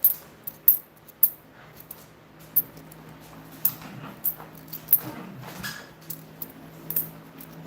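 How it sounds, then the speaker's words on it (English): Excited dogs move around in the background of an indoor space, with sporadic sharp clicks, jingles and faint whimpers scattered over a quiet room. "Again, please forgive the dogs in the background."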